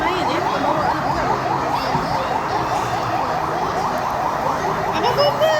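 Fire engine siren at a KidZania indoor play city, a loud continuous wailing sweep repeating rapidly and steadily throughout, with faint voices beneath.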